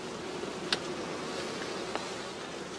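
Bees buzzing around a traditional straw skep hive on northern German heathland, a steady dense hum with two brief louder passes of individual insects close by.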